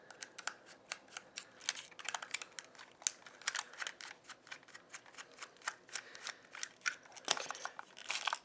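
Small Phillips head screws being backed out of a plastic robot toy with a screwdriver, giving a dense run of close, sharp clicks and ticks with no talking.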